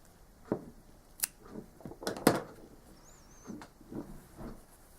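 Sharp scissors snip through a crochet yarn tail on a hand-made toque, giving a few quick, quiet cuts close by with faint rustling of the yarn around them.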